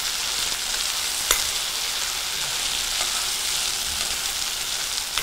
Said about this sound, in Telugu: ఆగలేసిన రొయ్యల్ని వీటిలో ఫ్రై చేయాలండి ఉల్లిపాయ ముక్కలు